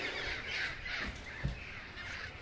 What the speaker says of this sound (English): There's these goddamn wild parrots all around Pasadena.